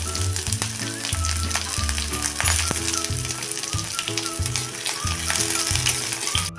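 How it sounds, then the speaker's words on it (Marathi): Onion, green chili and curry leaves sizzle loudly in hot oil tempered with mustard seeds and cumin for poha, a dense continuous frying hiss with occasional stirring scrapes and a low repeating thump beneath. "आता पोहे करण्यासाठी हा कांदा मिरची आणि कढीपत्ता हा आता फोडणीला टाकून घेतला आहे"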